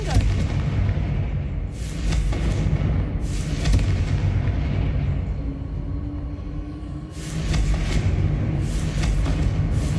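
Explosions from a fire spell blasting statues in Hogwarts Legacy, heavy booming bursts with a crumbling rumble, several blasts spaced a second or two apart over a constant low game rumble.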